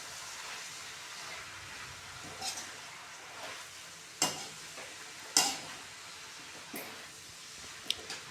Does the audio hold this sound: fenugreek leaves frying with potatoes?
yes